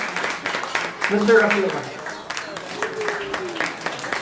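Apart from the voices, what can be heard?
applause for a speaker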